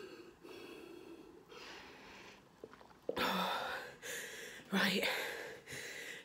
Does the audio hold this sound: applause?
no